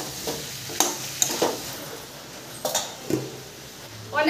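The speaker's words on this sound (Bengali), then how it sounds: "আলুটা কিন্তু আমি ভালো করে কষে নেবো।" Potatoes frying in a pan for a prawn dish, with a light sizzle under repeated stirring scrapes and sharp utensil clicks against the pan.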